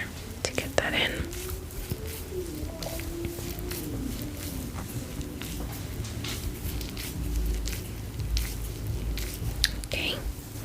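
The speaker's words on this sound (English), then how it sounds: "I'm kind of just going like this at the ends with the conditioner to get that in" Conditioner being worked into the ends of hair by hand, close, wet squishing and soft crackling rubs in a steady rhythm, with whispered talk over it.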